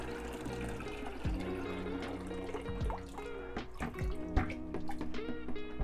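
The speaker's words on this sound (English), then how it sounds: "So I'm just gonna empty the rest of the RO water that I had in the tank into the bucket." RO water emptied from an Innovative Marine SR-80 Pro aquarium tank into a 5 gallon bucket, a continuous close pouring and splashing with gurgles and drips throughout.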